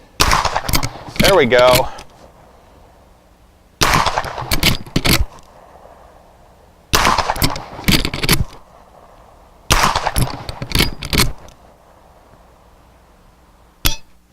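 Several loud rifle shots from a Marlin 1894 lever-action in 45 Colt fired at clay targets outdoors, coming in separated bursts with pauses between, and someone speaks briefly.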